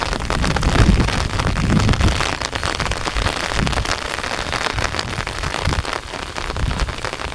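Heavy rain pours steadily onto surfaces on a farm, a dense, continuous hiss with close spattering drops throughout, no voices.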